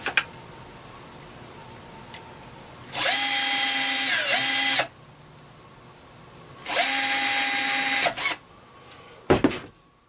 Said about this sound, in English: I think I'm going to make those holes a little deeper